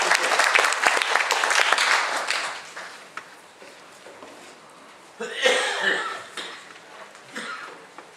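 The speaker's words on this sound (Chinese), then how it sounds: "请用最热烈的掌声欢迎" Audience applause in a lecture hall welcoming a vice-chair onto the stage at a medical forum, a dense burst of clapping that fades to scattered claps and coughs, then swells again into a second round.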